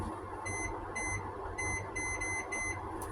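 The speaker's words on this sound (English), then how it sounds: "I'm going to set my timer for 15 minutes." Kitchen timer beeping in repeated short bursts of high electronic tones while it is set, fairly faint over a steady background hum, with no talking.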